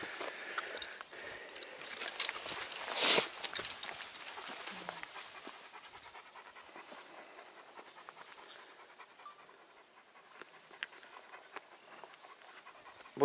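A Kangal dog pants in fast, rhythmic breaths close by, steady throughout with soft background noise and no talking.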